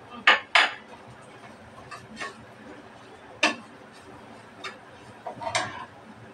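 Noodles are stirred with noodle masala in a pan, giving sparse, irregular metallic clinks and scrapes of a utensil against the cookware. A few sharp knocks stand out among quieter taps, with no talking.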